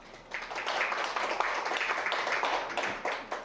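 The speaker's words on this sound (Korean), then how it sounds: "큰 박수 부탁드립니다" An audience applauds steadily, a dense wash of many hands clapping at moderate volume throughout.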